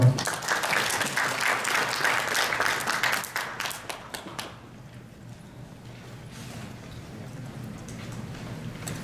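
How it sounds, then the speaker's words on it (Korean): A conference audience at DroidKnights 2019 applauds before an Android talk. The clapping is loud and dense at first, then fades after about four seconds to scattered claps and room murmur. "박수 많이 주세요."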